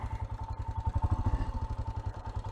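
A Royal Enfield motorcycle thumps along an offroad trail in the Picos de Europa, Spain, its single-cylinder engine pulsing in a rapid, even beat close up.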